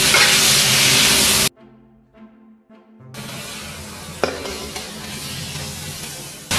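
Large onions sautéing in a pan for shrimp fried rice, a loud dense sizzle that cuts out into near silence for a moment and then returns steadier, with a single sharp clink.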